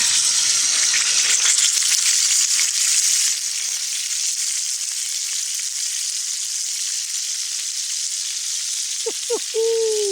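Tomahawk ribeye steak sears in a hot pan with melted butter, a loud steady sizzle and crackle that fills the scene, easing slightly partway through, with a couple of short clinks near the end.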